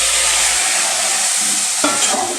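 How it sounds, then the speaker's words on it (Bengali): Potatoes fry in hot oil already seasoned with salt and turmeric, making a close, dense hiss with stirring scrapes in the pan, and a small clatter near the end. "এবার আমি আলুটা ভেজে নেব।"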